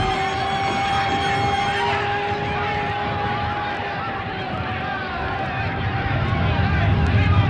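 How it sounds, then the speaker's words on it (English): Ambulance sirens on a comedy stereo test and demonstration record, a steady pure tone running continuously at moderate level under a broad wash of background noise. "The ambulance sirens you now hear in the background should be pure and non-wavering."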